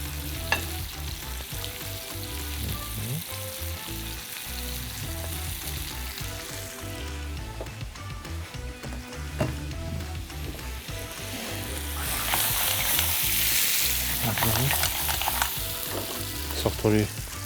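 Shrimp fry in a hot pan with garlic, a loud continuous sizzle punctuated by frequent stirring and scraping of the pan, swelling louder toward the end, with no talking.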